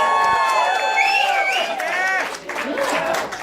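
A lively audience at a candidates' forum cheers, whoops and whistles with scattered clapping, a loud continuous crowd roar that swells and dips over a few seconds.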